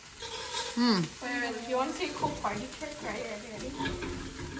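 Onions and tomatoes sizzle softly as they sauté in a pan, with occasional stirring, while people talk over the cooking throughout.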